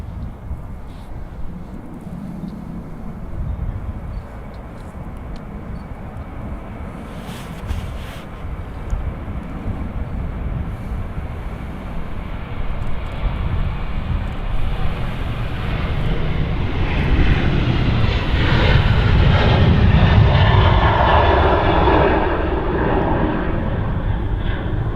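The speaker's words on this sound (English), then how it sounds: "the Ryanair spooling up" Ryanair Boeing 737 jet engines spooling up at Manchester Airport, a rumbling roar that builds steadily louder over about twenty seconds, with a rising whine and a fuller, nearer thrust toward the end.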